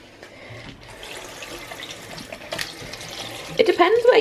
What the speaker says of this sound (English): So these bits I am going to rinse off.